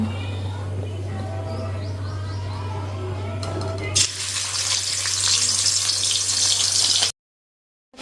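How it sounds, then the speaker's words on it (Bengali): Fish frying crisp in a pan at home, a close, steady sizzle with a low hum, growing louder and hissier partway through before cutting off abruptly. "আজকে মাছগুলোকে একটু কড়া করে ভাজবো"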